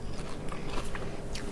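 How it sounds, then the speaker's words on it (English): Close, crisp crunching of someone biting and chewing homemade vegan caramel corn, several sharp crackly bites in quick succession. "you hear that crunch?"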